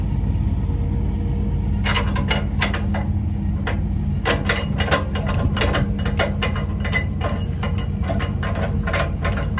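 A hand tool winds up straps with rapid bursts of ratcheting clicks over a steady low mechanical rumble, close and loud, pausing briefly between bursts.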